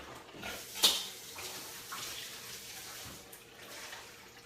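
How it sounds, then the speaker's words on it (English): Running tap water splashes steadily as a towel is rinsed under a kitchen faucet, with one brief sharp splash or clatter near the start, fairly close and moderately quiet, with no voices. "Let me just rinse this towel out, hold on."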